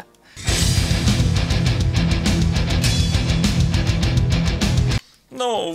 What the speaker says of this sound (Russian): Эй, Димон, он кричит здесь, если что.